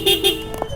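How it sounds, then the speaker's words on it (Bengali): A newly fitted dual horn on a new motorcycle gives two short, loud, close honks in quick succession, followed by quieter background noise. "তো হর্নটা লাগাইছি, এখন সাউন্ডটা দেখেন কিরম"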